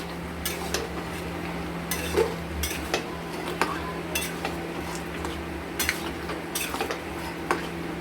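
Mutton curry with whisked sour yogurt gets stirred steadily in a pot, a metal spoon scraping and clinking against the sides in irregular strokes over a low, continuous hum.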